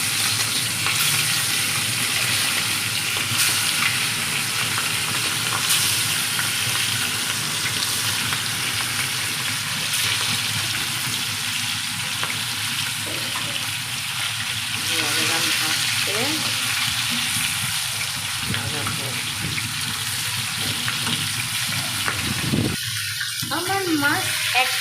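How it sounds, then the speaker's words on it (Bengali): Fish coated in turmeric and chili frying in a pan, a loud continuous close sizzle with occasional stirring and scraping that persists throughout, ending in a brief clatter. "আমার মাছ এক পিঠ ভাজা হয়ে গিয়েছে"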